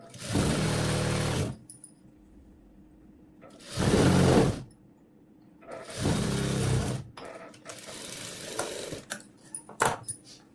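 Sewing machine stitching the side seam of pants: three bursts of rapid whirring stitching about a second or two each, separated by quiet pauses, followed by light clicks and handling noise, close and fairly soft.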